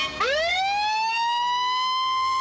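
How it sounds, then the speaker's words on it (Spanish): An ambulance siren in a film rises sharply and settles into a loud, sustained wailing tone, heard alone without talk. "Su amigo Jerry, que trabaja en una ambulancia, lo lleva a urgencias."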